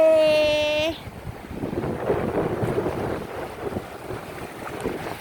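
Evening wind and waves at Cha-am beach on the Thai coast, a steady windy rush with soft surf beneath, preceded by a brief tonal sound in the first second.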